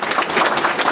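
A brief burst of clapping from a group at a gallery collection event, dense and steady for about a second.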